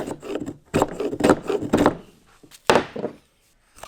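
A sharpened chisel slices through wood end grain in a series of firm cutting strokes, each a short scraping crunch, ending in a clear final cut and then quiet.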